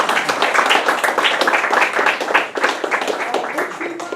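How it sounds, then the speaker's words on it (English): An audience claps at a lecture after a play, a dense patter of many hands filling the room steadily, then thinning slightly toward the end. "Another round of applause"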